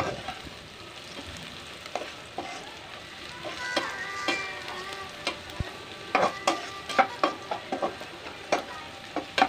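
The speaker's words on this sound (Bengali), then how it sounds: "এখন আমি পেঁয়াজগুলোকে ভেজে নিচ্ছি।" Chopped onions frying in a pan with a soft steady sizzle, broken by sharp scraping and tapping strokes of a spatula being stirred, growing more frequent toward the end.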